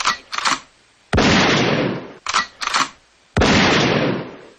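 Loud gunshot sound effects dropped into a talk radio show: two sharp blasts, each with a long noisy decay, with shorter bursts of other sound in between.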